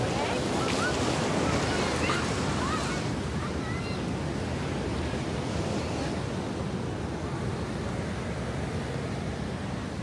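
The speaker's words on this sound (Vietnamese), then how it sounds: "sóng lớn rồi" Large ocean waves roll in at a California beach, making a continuous broad roar of surf with wind noise on the microphone and faint voices in the background.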